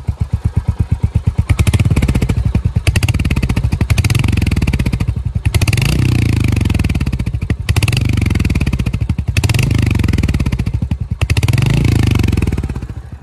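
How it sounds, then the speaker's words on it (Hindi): A new Royal Enfield Hunter 350 motorcycle engine, heard up close and loud, thumps with a fast rhythmic beat and is revved in several repeated surges that rise and fall over the steady running. "एक बार आप सुन लो, मैं रैव करके सुना देता हूँ।"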